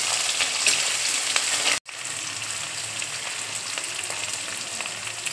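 Chopped onion and garlic hissing in hot oil after dried red chilies, a loud dense sizzle that cuts out briefly for a split second and then resumes steadily.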